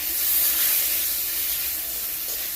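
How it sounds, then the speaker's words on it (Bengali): Chopped coconut frying in oil in a pan for khichuri, a steady close sizzling hiss that stays even and continuous for the whole short stretch. "কুচিয়ে রাখা নারকেলটা হালকা করে তেলে নেড়ে নেব প্রথমে নারকেলটা দিয়ে দিচ্ছি"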